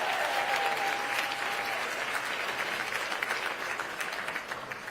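Crowd applause at a political address, a sustained round of many hands clapping that holds strong and slowly tapers near the end, with no speech over it.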